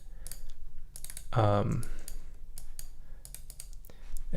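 A few sharp clicks from computer keyboard keys, including an arrow key, sound close by during a design live stream, mixed in with a person talking.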